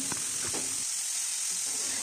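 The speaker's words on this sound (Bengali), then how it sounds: "পাঁচফোড়ন আর শুকনো লঙ্কা দিয়ে তরকারিটা আমি ফোড়ন দিয়ে দিলাম।" Panch phoron and dried red chilli crackle in hot oil as a curry is tempered, giving a steady close sizzle with a few stirring scrapes early on.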